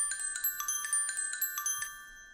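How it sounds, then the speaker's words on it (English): Glockenspiel notes with a slight offset giving each strike a flam, a quick run of bright, ringing metallic tones in a steady rhythm that fades into a sustained ring, close and clean with no talking. "I'm going to get rid of the xylophone, and I'm going to use a glockenspiel"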